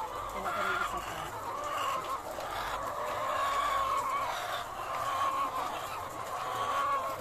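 Chickens clucking in a pen where eggs are being gathered into a tray, a dense chorus of steady clucks and murmurs close by, with other hens beyond and occasional faint talk.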